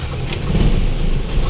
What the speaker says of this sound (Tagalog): ngayon ang gagawin nyo una mga idol, paandarin nyo ang makina. Paandarin, start.